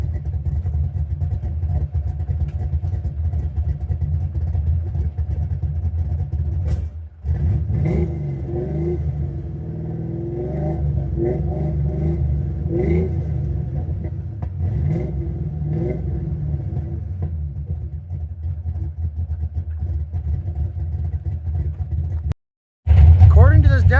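A car engine with a cheap aftermarket muffler revs to 3,000 RPM and settles repeatedly about five feet away, a deep throaty rumble rising and falling over about twenty seconds before a brief cutout.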